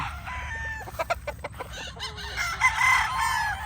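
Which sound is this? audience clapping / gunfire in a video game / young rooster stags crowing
young rooster stags crowing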